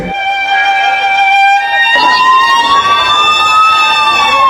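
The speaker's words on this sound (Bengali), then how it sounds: "অসংখ্য অ্যাম্বুলেন্সের আর্তনাদে প্রকম্পিত পুরো এলাকা" Loud wailing ambulance sirens rise and hold steady at a plane crash site, with a busy crowd murmuring and noisy activity underneath.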